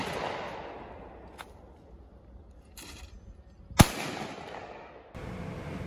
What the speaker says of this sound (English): I hope you guys enjoyed that gun shooting.